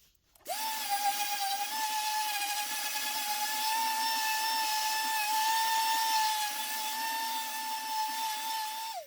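A power sander runs on a PRS-style guitar top, starting abruptly and holding a steady, close, high whine for about eight seconds before spinning down.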